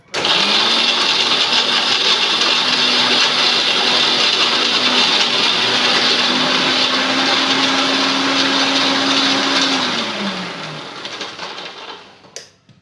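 Ingredients are ground together in an electric grinder, a loud steady whirring drone for about ten seconds that then winds down and fades, with no voices.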